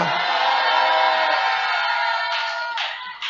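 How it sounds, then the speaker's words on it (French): A church congregation cheers and acclaims in a loud, sustained crowd roar of many voices, holding steady before thinning slightly toward the end. "Ça mérite des acclamations de ta part."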